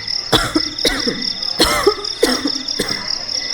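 A mother coughs loudly from the next room, four or five harsh, separate coughs spread across a few seconds against a quiet night-time background, with some throat clearing.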